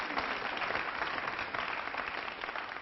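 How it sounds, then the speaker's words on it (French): Audience applause following a coin magic trick, a dense steady wash of many hands clapping that holds at an even level for the whole stretch with no voices above it. "Applaudissez quand même."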